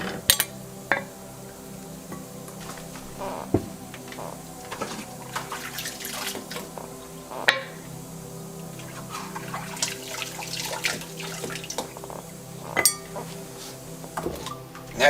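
Canning jar lids and metal bands being washed in a kitchen sink, with water running steadily and scattered light metallic clinks and knocks throughout, no voices.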